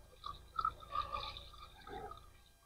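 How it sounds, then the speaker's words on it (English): Motor flush is poured into the engine oil of a 2008 Volkswagen GTI with a seized engine, a faint, close trickle with soft glugs and drips through a few seconds. "We'll put this whole bottle of motor flush in."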